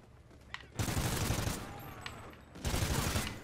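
Bursts of rapid gunfire from an SC-2010 rifle in Call of Duty: Ghosts, a team deathmatch on the Chasm map, come in two long loud volleys separated by a quieter gap with a single sharp shot.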